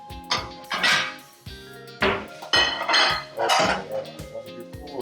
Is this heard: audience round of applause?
no